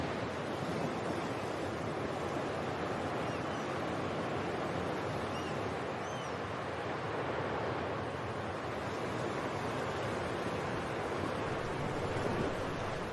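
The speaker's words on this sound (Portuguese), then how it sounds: "One wave can clean the beach, and so the marks are almost totally erased." Atlantic surf washing continuously onto a sandy beach on Lanzarote, a steady broadband wash of breaking waves with light wind, even and unbroken throughout, no voices.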